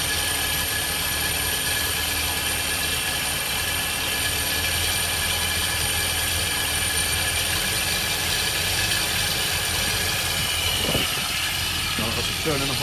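Ford Ranchero engine idling steadily with a dense mechanical drone while the idle is adjusted, running close and continuous throughout, with a few clicks near the end.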